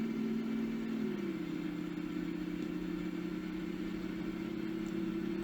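A Windsor V8 in a Ford Mustang hums steadily at a deep, even idle in Car Mechanic Simulator, with the pitch dipping slightly partway through.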